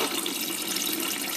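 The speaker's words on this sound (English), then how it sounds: "All right, we'll fill it up with a quarter of water." Tap water runs steadily into a cooking pot being filled for a pasta and vegetable soup, a continuous close splashing rush lasting the whole moment with no voices over it.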